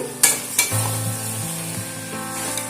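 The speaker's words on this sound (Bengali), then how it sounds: "5 মিনিট মতন শাকটাকে রান্না করে নেওয়ার পর একটু নাড়াচাড়া করে দিচ্ছি" Spinach sizzling steadily in a hot pan while being stirred, a loud continuous frying hiss broken by a few sharp scrape and clatter accents from the utensil, close up and without voices.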